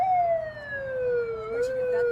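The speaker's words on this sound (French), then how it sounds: "sans oublier les sirènes" A police-style siren fitted to a bumper car dressed up as a police car sounds close and loud, one long slowly falling wail, with a brief electronic chirp near the end.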